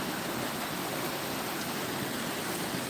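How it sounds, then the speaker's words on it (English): Creek water flows steadily through a park with wildlife and trees, making a continuous soft hiss of moving water throughout, with no voices. "Good old creek sound, nothing like it."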